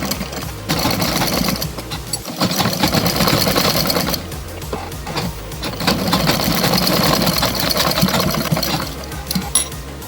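A sewing machine stitching cloth for a kurta, a loud, steady mechanical whirring chatter that runs in two long bursts with a short pause between them.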